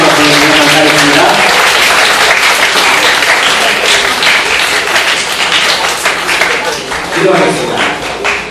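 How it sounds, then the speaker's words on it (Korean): A congregation at a church service breaks into loud, sustained applause of many hands clapping, which fades slightly toward the end as a voice speaks over it. "다시 한번 힘찬 감사의 박수로 감사하겠습니다."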